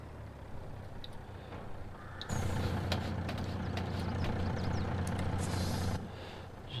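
A truck engine idles steadily in Farming Simulator 22 while a slurry tanker's hoses are hooked up, with a sudden louder rumble and short clicks and hisses for a few seconds before settling.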